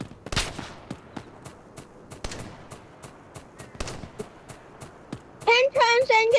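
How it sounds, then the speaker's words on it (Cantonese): Gunfire in a shooting video game cracks as a string of sharp, separate shots at uneven intervals, some near and loud, others fainter, before a voice speaks at the end. "聽槍聲一聽都知啦"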